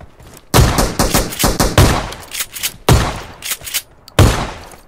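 Loud automatic gunfire in PUBG Mobile bursts out in several separate volleys, with sharp, rapid shots and short pauses between each burst.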